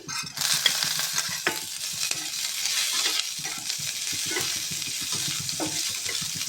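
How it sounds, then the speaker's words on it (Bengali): Chopped garlic and chilli fry in oil in a pan, giving a loud, continuous hiss and sizzle with occasional stirring scrapes throughout, and no one speaking. "চপ করে রাখা রসুন দিয়ে দিচ্ছি, এটাকে ভেজে নিতে হবে"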